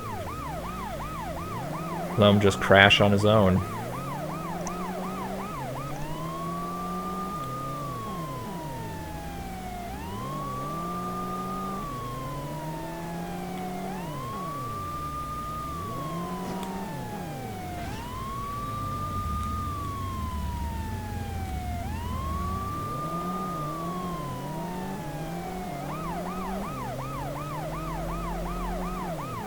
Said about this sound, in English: Just follow him with the siren on and let him